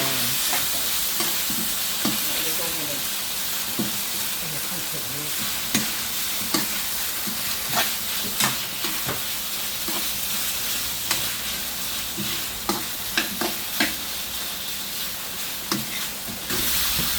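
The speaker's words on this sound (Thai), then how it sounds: "เทหมูที่ลวกเมื่อสักครู่นี้ลงไปนะจ๊ะ คนนี้เข้ากันค่ะ" Blanched pork tossed into a hot wok of spicy stir-fried pork head, stirred with steady scraping over continuous loud sizzling and frying hiss, with intermittent utensil knocks against the pan.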